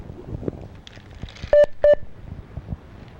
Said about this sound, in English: I don't know what that double beep sound was.